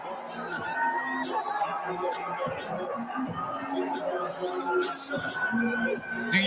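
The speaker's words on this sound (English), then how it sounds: "Do you hear the crowd going crazy for that?" A wrestling arena crowd erupts into cheering and whooping, a dense roar of many voices with chatter and shouts layered together, loud and sustained for several seconds.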